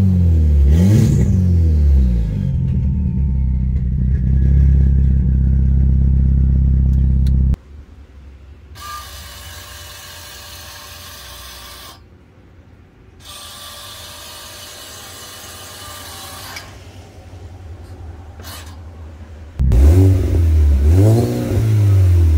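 A loud car engine with its valved dump pipe open revs hard with a harsh rasping exhaust, drops away, then comes back in several bursts of throttle, near and without voices.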